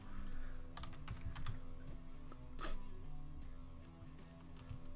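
Quiet clicking of typing on a computer keyboard, a loose run of light taps over a low background hum, faint and close.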